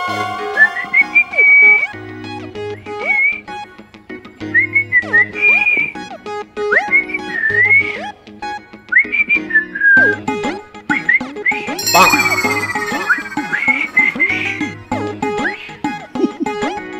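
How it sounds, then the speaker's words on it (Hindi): A person whistles a series of short, bright melodic phrases while walking, repeated with pauses over a low humming background score, loud and close, with a brief burst of louder musical accompaniment near the end. "ऐसी सीटी मारता हुआ जाऊंगा तो कोई मुझसे टकराएगा नहीं"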